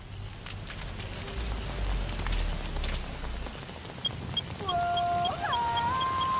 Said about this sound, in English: the rain and mist does make visibility a little low